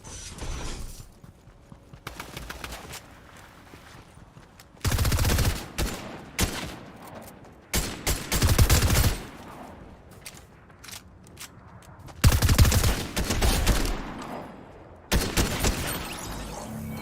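Bursts of gunfire crackle in Fortnite, sharp loud volleys in clusters separated by quieter stretches, with rapid shots repeating across the clip.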